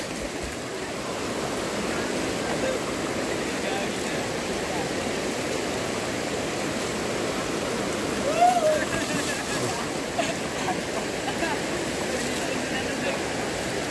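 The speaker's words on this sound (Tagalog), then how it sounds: "Malakas ang agos." Strong river current rushing past in a steady, dense broadband roar, continuous and close, with a few faint voices in the background.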